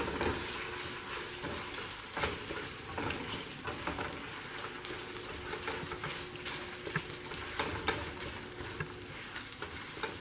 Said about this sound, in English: Then just mix around the ground meat.